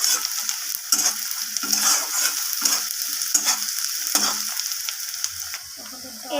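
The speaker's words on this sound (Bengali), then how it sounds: "রসুনটা দেওয়ার পর পেঁয়াজের সাথে আবারও আমি নাড়াচাড়া করে ভেজে নিচ্ছি এইভাবে" Garlic and onion fry and get stirred in a pan for dal, with steady close sizzling broken by repeated scraping strokes of the spoon at an even rhythm. No one speaks.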